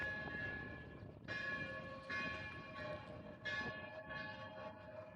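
Distant church bells toll in slow, regular strokes in Gyumri, Armenia, ringing out with a sustained tonal hum over a low city background rumble.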